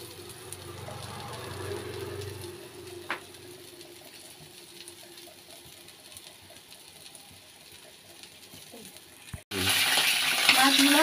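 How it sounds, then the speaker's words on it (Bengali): Hot mustard oil with nigella seeds crackles in a pan for Bengali hilsa curry, a soft steady sizzle with faint ticking and scraping, ending in a sudden louder burst of frying. "তো কালো জিরে ফোড়ন দিয়েছি, সর্ষের তেল দিয়ে করবো।"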